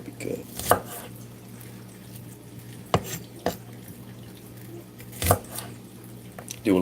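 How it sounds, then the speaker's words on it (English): Knife chopping onions: a few sharp, separate cuts against a board, spaced irregularly over a quiet kitchen background. "that's not how you chop onions"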